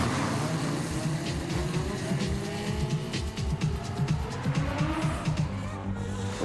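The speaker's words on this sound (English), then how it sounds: "Lap 2 of the first qualifying heat, and Red Dragon Ken is off" Race cars roar off the line at the start of a qualifying heat on a track, with engines loud and close and tires squealing throughout.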